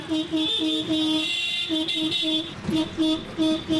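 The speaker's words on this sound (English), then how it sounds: "Wow, look at all that honking, man." Car horns honk in busy traffic in Agra, India: a steady run of loud, overlapping honks, some short toots and some held blasts, all close by and repeating without a pause.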